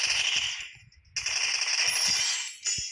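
Rapid bursts of video game gunfire, loud and continuous, with a brief pause before the firing resumes.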